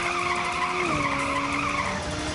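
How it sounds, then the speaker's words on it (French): A prolonged tire screech from a PlayStation video game, with a steady squealing tone that dips in pitch partway through, loud and continuous over engine noise. "Ou le son de ce dérapage."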